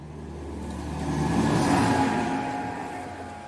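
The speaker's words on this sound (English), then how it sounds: "Tractor." Engine of a tractor on a small dairy farm passes by, swelling from a low hum to a louder mid-range drone around the middle and fading again, heard alone.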